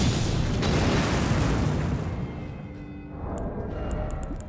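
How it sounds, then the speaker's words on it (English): A fire pot bursts in Elden Ring, a loud broad boom that swells at the start and rumbles away over several seconds, trailing into quieter crackle and small sharp ticks near the end. "Explosion."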